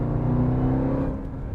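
A 2020 Jeep Trackhawk high-performance SUV accelerates in sport mode, its engine a loud, steady low roar that holds close and strong before easing slightly toward the end, with no talk over it.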